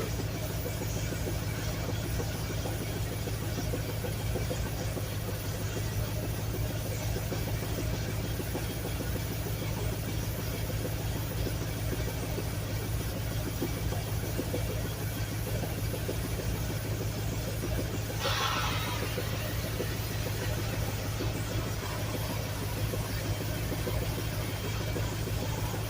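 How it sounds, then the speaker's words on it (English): A Jeep rat rod engine with an exhaust leak underneath idles steadily with a low, even rumble for the whole stretch, a brief hiss rising midway through. "Now I got one exhaust leak down underneath."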